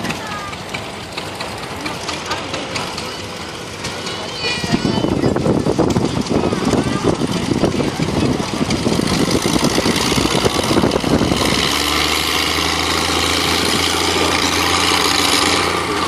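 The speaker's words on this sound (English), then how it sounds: "Next up is 1949 John Deere A driven by Paul Hall out of Mill Creek." A 1949 John Deere A tractor rolls past in a small-town power parade, its engine running steadily and fairly loud for several seconds, mixed with crowd noise and people talking nearby.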